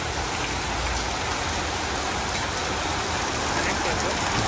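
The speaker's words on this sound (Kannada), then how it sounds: "ಬೆಂಗಳೂರು ನೋಡಿ ಮಳೆ ಬಾರಿಸ್ತಾ ಇದೆ" Heavy rain pours down in Bangalore in a loud, unbroken, dense hiss of drops hitting surfaces close by.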